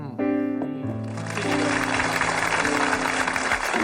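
Studio audience applause at a Chinese televised debate show, a dense, steady wash of clapping that rises after a brief musical tone at the start and continues without pause.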